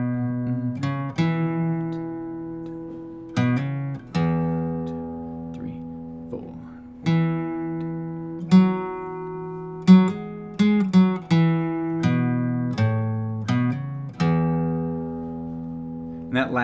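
A picked acoustic guitar plays a walking bass-note sequence from a song in standard tuning, single low notes struck one after another with chords ringing over them, clear and close with no talk.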